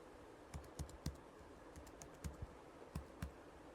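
Someone types a password on a computer keyboard: quiet, close keystrokes land in short irregular bursts of two or three clicks, separated by brief pauses, with no talking.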